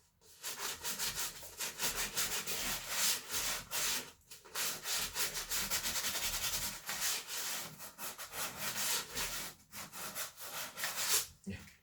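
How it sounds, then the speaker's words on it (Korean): Sandpaper rubbing back and forth over a solid wood cutting board, close and rhythmic in long strokes with brief pauses between passes, a faint voice now and then. "이런 식으로 사포질을 해주시면 되고요"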